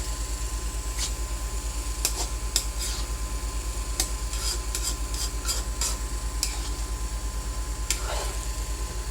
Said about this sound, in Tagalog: Ayan, nalagyan na po natin ng gata and then haluin po natin